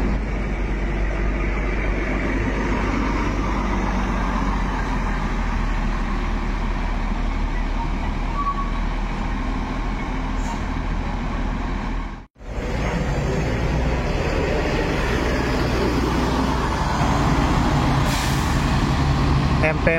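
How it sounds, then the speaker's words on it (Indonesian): An MPM Volvo bus departing on the Jakarta–Padang route, a loud steady diesel engine rumble up close that continues throughout with a brief dip midway, while people talk under the noise. "Bus MPM yang kedua,"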